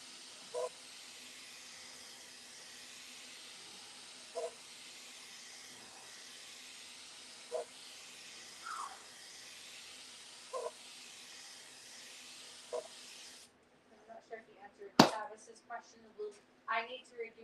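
An airbrush sprays magenta candy paint over ground metal in a steady, continuous hiss with faint tapping in the background, then cuts off into a few sharp knocks and handling noises.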